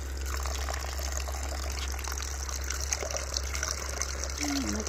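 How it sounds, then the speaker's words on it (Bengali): Running water rinses freshly picked soft leaves clean of soil, a continuous gentle gush from a tap close by, with faint talk in the background. "এখন একটু ধুয়ে নিব, ধুয়ে ভালো করে পরিষ্কার করে নিব"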